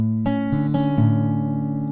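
Near a guitar, a few picked notes from a song land on a low bass note that rings out and sustains, alone and clear.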